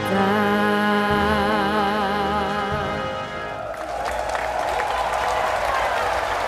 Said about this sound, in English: thousands of people cheering on his every effort here